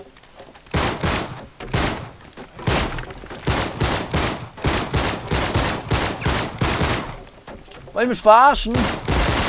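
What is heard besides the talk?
gunshots at a support beam in the video game Uncharted 3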